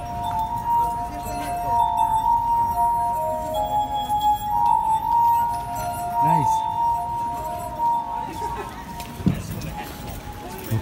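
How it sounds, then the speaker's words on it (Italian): Drinking glasses are played, ringing out sustained clear tones and clinks that overlap and fade, with a few lighter taps and background movement sounds in between. "suonavo i bicchieri, guarda che bel suono che fa"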